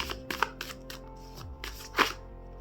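Tarot and oracle cards shuffled by hand during a reading, giving a series of close, crisp riffling bursts with short gaps, with no talking.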